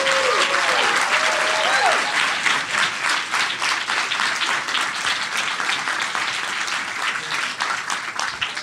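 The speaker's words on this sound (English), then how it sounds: "Please join me one more time in giving them all a round of applause." An audience at a venture challenge finals applauds the presenting student teams, loud dense clapping that starts abruptly and carries on steadily for several seconds before easing slightly.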